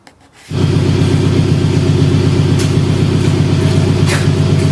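A car running with its catalytic converter and exhaust pipe detached from each other: a loud, steady, deep rumbling drone starts abruptly after a brief quiet moment and continues without pause, with no talking.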